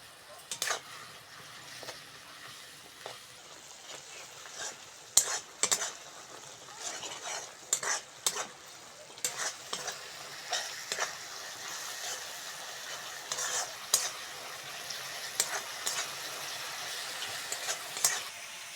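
Turmeric, chili powder and salt are stirred into hot oil in a pan for spicy tilapia curry: a steady close sizzle broken by irregular scraping strokes of a spoon against the pan.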